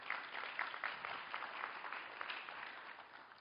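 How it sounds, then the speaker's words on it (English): An audience at a California water summit applauds the discussion leader, steady, faint clapping from a crowd that carries on evenly throughout without any voices. "give her a round of applause."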